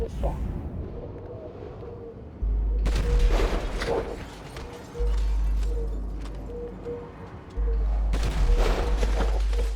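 Rifle shots in Grand Theft Auto V: loud, sharp booming cracks at two points in the clip over game ambience, with character dialogue spoken between them.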